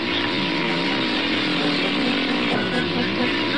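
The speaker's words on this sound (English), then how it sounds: "Start pumping, Larry." Cartoon pump inflating an inflatable battleship, a loud continuous buzzing, motor-like whir that runs steadily without pause, no talk over it.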